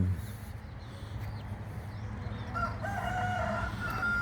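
A rooster crows at night on a farm after rain, a single drawn-out call rising faintly from a distance over a low, steady background hum.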